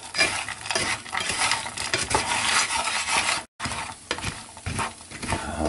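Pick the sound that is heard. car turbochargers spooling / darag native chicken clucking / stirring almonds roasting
stirring almonds roasting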